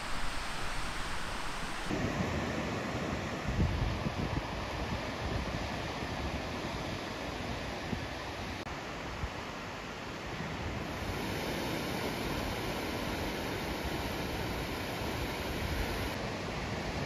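Small ocean waves breaking near shore at sunset, a steady soft wash of surf with wind noise, continuous and fairly even throughout, no voices.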